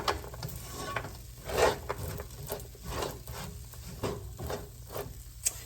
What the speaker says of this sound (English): I'm going to keep mixing, make sure that the almonds are completely caramelized